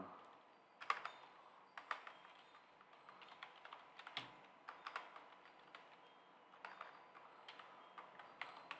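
Keys clatter on a computer keyboard in a quiet room, a soft, uneven run of taps with occasional brief pauses, faint and close.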